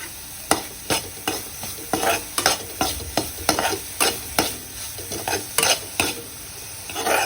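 A besan pitla base with turmeric and salt bubbles and sizzles in a pan, stirred with brisk, evenly spaced spoon strokes that scrape loudly about every half second.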